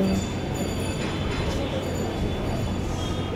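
A passenger train running during a long journey, heard from inside as a steady low rumble and rattle of the carriage with faint clinks, continuous and close.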